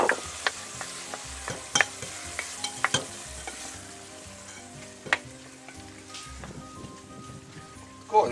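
Ground beef frying in a cauldron sizzles steadily while a utensil stirs and scrapes through it, with sharp clanks and knocks scattered throughout and a louder clatter at the end.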